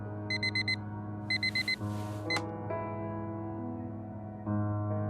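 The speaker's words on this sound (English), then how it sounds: "Every day that alarm goes off." A video game alarm clock goes off with two bursts of rapid electronic beeping over a low steady hum, followed by a sharp click and a brief sweep.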